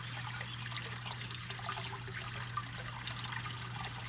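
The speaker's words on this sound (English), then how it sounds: "you just listen to that water trickle" Water trickles steadily from a 12-inch stainless steel pond waterfall box with a pump, making a soft, close, continuous splashing babble over a low pump hum.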